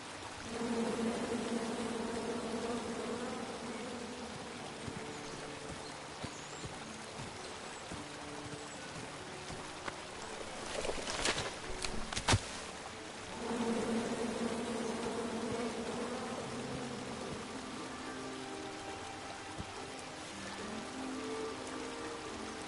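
Angry bees from the King's Quest video game drone in a continuous loud buzzing swarm, interrupted midway by a brief burst of sharper noise before the steady buzz resumes.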